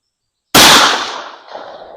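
An H&R 32 gauge shotgun fires a single .45 ACP 185 grain sabot slug outdoors at a range, one loud sharp report after brief silence, then a decaying echo.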